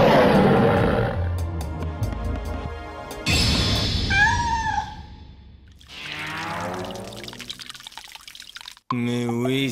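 An animated lion gives a loud roar and growls amid dramatic anime soundtrack effects, with abrupt cuts between roaring, sweeping tones and a short musical sting at the end.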